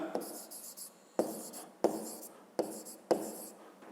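Pen or pencil writing out a fifth-grade math exercise on paper, close scratchy strokes in five short bursts, each starting with a sharp tap and separated by brief pauses.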